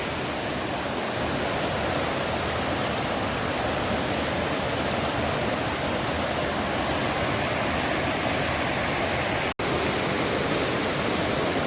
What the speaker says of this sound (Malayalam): ഇതാണ് മാടത്തരുവി വെള്ളച്ചാട്ടത്തിൻ്റെ